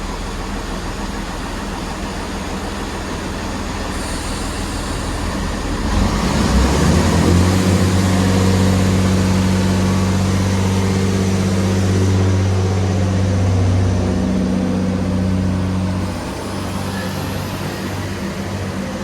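A three-coach Class 165 diesel multiple unit, 165101, pulls out of Dawlish station bound for Paignton. Its engine swells into a loud, steady low rumble that holds for about ten seconds over outdoor background noise, then drops away.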